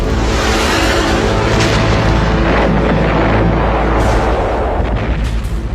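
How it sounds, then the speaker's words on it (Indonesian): Dramatized battle effect of explosions shaking a Kalimantan jungle during the 1964 Indonesia–Malaysia confrontation: continuous loud booming blasts and rumbling artillery-like fire with sharp bursts, dense and unbroken throughout, no talk. "Ledakan mengguncang hutan Kalimantan."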